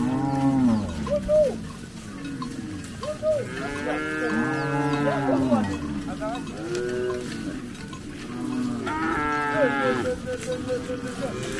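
A herd of cattle lowing repeatedly as they are driven out to graze on pasture in South Sudan, several overlapping moos near and far, with a few sheep- or goat-like bleats mixed in.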